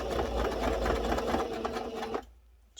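A sewing machine runs steadily along the seam of a fabric drawstring bag, its close, continuous whirring stopping abruptly just before the end.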